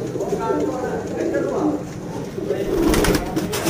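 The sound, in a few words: breeder and flying pigeons cooing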